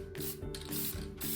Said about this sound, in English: spray another coat on these two